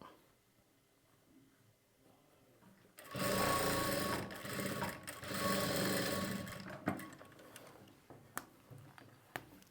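A sewing machine stitches a pocket onto a churidar bottom, starting after a quiet pause with a fast, loud mechanical whir for about four seconds, then slowing into scattered clicks and ticks as it stops.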